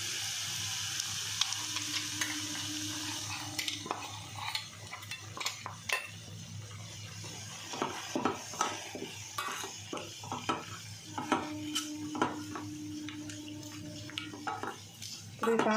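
Ground chili powder frying and being stirred in hot oil with curry leaves in a pan, a steady sizzle with repeated scraping and clinks of a spoon against the metal, close by and fairly quiet, no talking.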